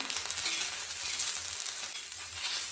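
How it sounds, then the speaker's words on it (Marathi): Green chillies fry in a little oil in a pan over medium heat for a spicy tomato and chilli thecha, giving a steady, close, continuous sizzle with no talking. "यामध्ये थोडंसं तेल टाकून घ्यायचं आहे आणि परत मीडियम आचेवर आपण हे परतून घ्यायचं आहे"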